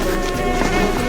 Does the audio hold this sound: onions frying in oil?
no